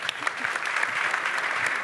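Audience applause fills a room at a startup investor-relations workshop, steady dense clapping throughout with faint voices mixed in.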